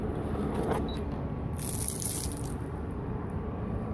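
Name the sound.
pouring hot water out of a pan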